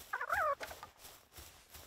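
A chicken-like creature in the creature-collecting game Palworld gives one short, warbling, gobble-like cluck near the start, followed by faint background game sounds.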